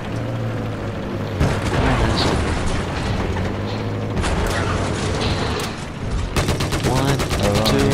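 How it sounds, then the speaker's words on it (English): Dense gunfire and booming explosions fill a tank battle video game, with rapid bursts, heavy impacts and mechanical clatter crowding together at close range and no clear pauses. "There's so many goddamn explosions."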